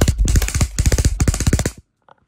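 An E&C 645-1 airsoft rifle fires full auto in three rapid bursts of sharp, evenly spaced clicks, loud and close, each burst about half a second long, then quiet.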